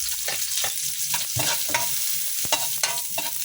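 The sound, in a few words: sautéing garlic and onion in a pan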